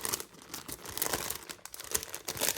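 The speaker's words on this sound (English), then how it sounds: "sorry for the crinkling" Plastic packaging crinkles and rustles continuously while lace and vintage craft supplies are unwrapped, bright crackling bursts close and fairly loud with no talking.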